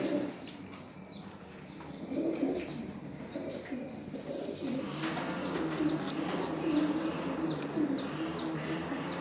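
A silver breeder pair of pigeons offered for sale gives soft repeated coos at close range over faint background chirps and a low ambient hum, with no speech.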